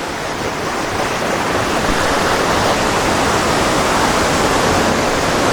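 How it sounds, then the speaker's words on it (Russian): A waterfall at an amusement park in the Philippines roars as a steady, loud, broadband rush of falling water, with no break across the whole stretch and no voices. "Кстати, походу вот и водопад."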